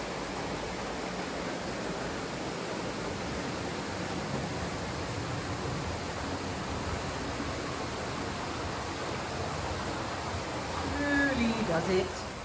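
Steady broadband rush of water pouring over a canal lock gate, loud and continuous throughout, with a brief louder splash near the end.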